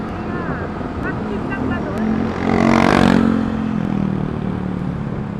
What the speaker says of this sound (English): That's the motorcycle.